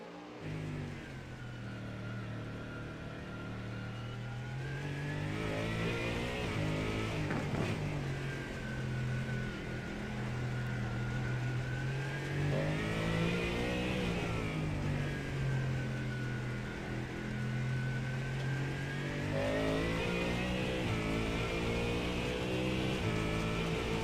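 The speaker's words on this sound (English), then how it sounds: "Maybe we could do a wee bit of an onboard with Jonathan so the people at home could hear what the new Mustang sounds like" Onboard a new Ford Mustang race car on track, a loud sustained engine drone that climbs and falls through repeated rev swells as the car accelerates and shifts, heard continuously from inside the car.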